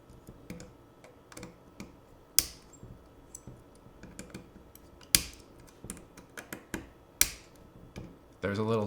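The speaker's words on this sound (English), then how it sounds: "There's a little snap when you're undoing these. You can probably hear that. That's just a little bit of Loctite breaking." Threadlocker breaks with small, sharp snaps as screws are undone on a Sony FX9 camera during an internal battery replacement: several scattered clicks among light handling noise, close and faint.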